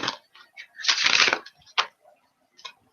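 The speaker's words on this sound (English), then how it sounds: "That's how I shuffle decks." Close, crisp riffling of playing cards in short bursts, one longer flutter in the middle followed by a few quick snaps and taps.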